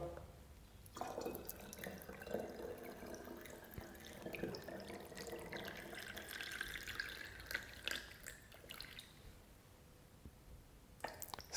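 Water pours from a tap into a container while making yeast water with sugar, salt and a date, a steady rushing trickle that runs nearly the whole time before breaking into a few splashes and drips at the end.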